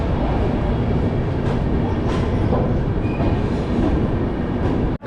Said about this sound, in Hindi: और ट्रेन हमारी पहुंच चुकी है मुजफ्फरपुर।